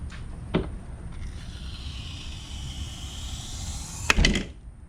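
Tailgate with tailgate assist being lowered on a 2015-2021 Ford pickup, giving a soft creak, then a couple of sharp clunks and rattles near the end over steady outdoor background hiss.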